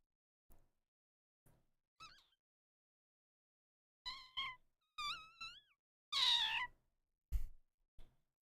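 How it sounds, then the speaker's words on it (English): A cat gives a string of high, thin kitten-like meows, some short and some drawn out, scattered across a quiet room with one louder cry near the end and brief soft noises between. "Sounds like a kitten."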